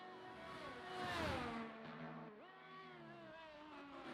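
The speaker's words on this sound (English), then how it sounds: "I always love the sound of the curbs. The cars go over them." Formula racing cars in a video game set at the Austria circuit: a steady, high engine whine runs throughout, with a brief louder rumbling burst as a car rides over the curbs, fairly faint and without talk.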